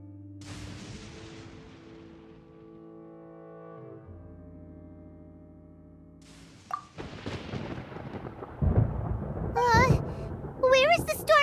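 Thunder in the Genshin Impact video game rolls in as a deep, drawn-out rumble with booming low swells, followed by lively character voices speaking over a continuing stormy background.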